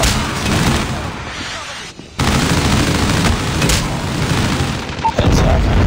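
Predator missile strike in the mobile shooter Call of Duty Mobile, loud booming explosions and rumbling blast noise filling the clip, with a brief cut-out partway through before the roar resumes and a sharp hit near the end.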